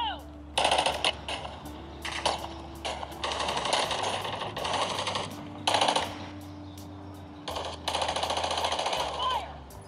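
Video game gunfire blasting from a Sony Xperia 1 VI phone's speaker outdoors comes in about six loud bursts of rapid shots, separated by short pauses, over a low steady hum.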